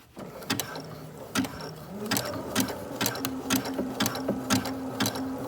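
A sewing machine stitches an appliqué flower in close, rapid mechanical bursts, its whirring runs broken by brief pauses and sharp clicks as the fabric is turned.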